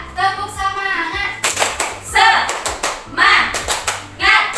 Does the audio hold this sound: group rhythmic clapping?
yes